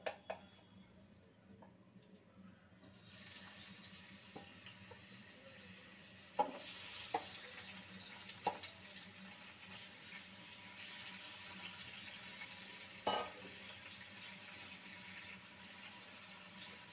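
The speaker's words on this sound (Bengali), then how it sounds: "মাছ ভাজার জন্য কড়াইতে তেল গরম বসিয়েছি।" Fish fry in hot oil in a wok, a soft, steady hiss starting after a quiet moment and running on close by, with a few faint clinks and taps scattered through it.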